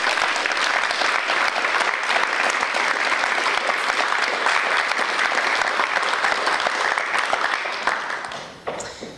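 Sustained, dense audience applause welcoming Professor Jackie Sturt to an inaugural lecture, steady and full throughout before tapering off at the very end.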